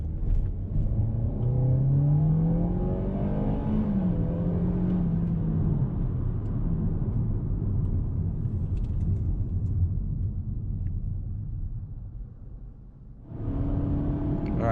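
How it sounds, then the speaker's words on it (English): Lexus UX200 compact SUV with a CVT accelerating onto a highway, a steady engine drone and road rumble that climbs in pitch early on, then holds level before a brief dip and renewed surge. "The CVT actually does a decent job getting this car up to speed."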